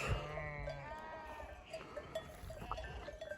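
Several sheep bleat repeatedly, some nearby and others farther off, over faint outdoor background noise.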